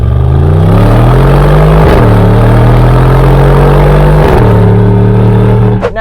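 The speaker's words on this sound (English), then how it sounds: "You press that button and you get a great sounding, throaty V8 engine" Throaty V8 exhaust of a 2021 Mercedes-AMG GLE 63 S, loud and close, rumbling at steady idle with two brief rev blips that rise and settle back, ending in a short sharp burst.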